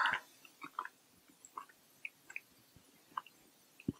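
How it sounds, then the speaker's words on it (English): Someone chews a big mouthful of pot roast up close, with soft wet squishes and small clicks in an irregular rhythm, quiet and with no talking. "It might take a minute to chew."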